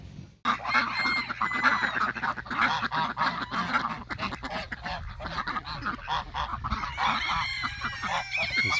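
Geese honking loudly and continuously on a farm, a dense flock calling over one another close by, with some quacking from ducks mixed in.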